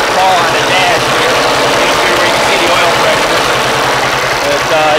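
Engine of a 39H tractor fitted with cultivators, running steadily close by with a loud, even chugging rhythm that fills the whole stretch.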